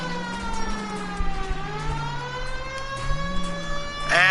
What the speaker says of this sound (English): You hear a siren, you get out of the way!